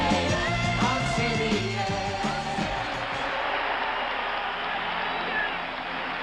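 Crowd cheering and applauding inside the Boston Garden during the 1976 NBA Finals as the Celtics are introduced; a dense, loud and steady roar of a big arena crowd, with a brief louder surge near the start.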